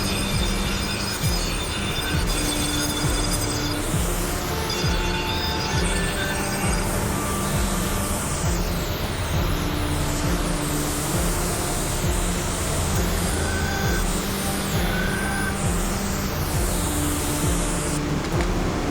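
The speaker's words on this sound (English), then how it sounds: "the most aggressive way to grind is using one of the wheels, especially this bottom wheel" Grinding wheel taking pits off the blade of a spear forged from 1900s scrap, a sustained harsh abrasive whir with a steady drone, shifting in pitch as the steel is pressed and moved against the wheel.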